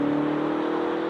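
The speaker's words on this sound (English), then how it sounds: "it's a V8 turbocharged engine with 575 horsepower" A turbocharged V8 in a BMW X6 M (F16), rated at 575 horsepower, holds a steady loud drone with strong low harmonics, sounding like a sustained rev or hold at high RPM with no talk over it.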